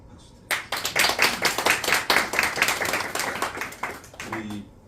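A church congregation at a Sunday worship service breaks into clapping, a sudden burst of many hands that rings out steadily for several seconds before easing, with a voice starting to speak at the end.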